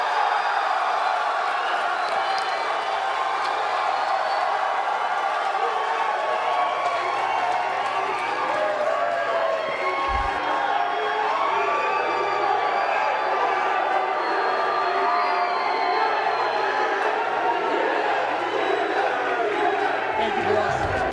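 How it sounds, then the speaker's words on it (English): Press conference audience cheering and whooping as fighter Nate Diaz enters, a dense steady roar of a large crowd with scattered shouts and applause throughout, loud and continuous with a low rumbling undertone. "You can hear the cheers and appreciation, but pay attention to the subtle rumbling undertones coming from the audience"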